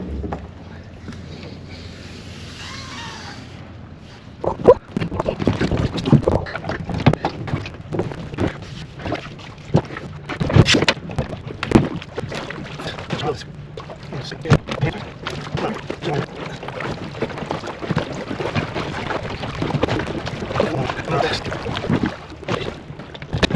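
Oars work a small dinghy across open water, with rhythmic splashes and knocks of the strokes against steady wind buffeting the microphone, continuing for over twenty seconds with no one speaking.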